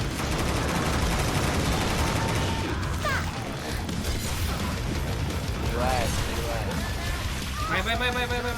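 Rapid automatic gunfire from Left 4 Dead 2 rattles almost without pause, dense and loud, with a few brief metallic clanks and a voice cutting in.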